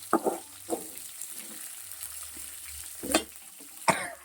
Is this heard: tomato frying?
yes